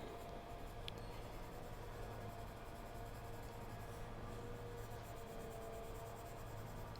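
A pencil shading with very light pressure across smooth paper, gliding over dark gray areas in a steady, soft, close scratchy hiss that continues without pause.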